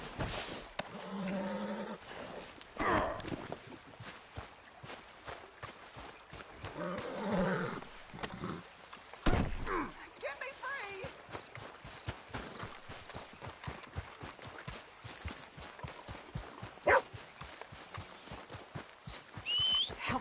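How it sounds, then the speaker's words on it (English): Horse hooves clip-clop in a steady rhythm through Red Dead Redemption 2 gameplay, with animal snorts and someone shouting in distress over the trotting. "Help me off this goddamn horse!"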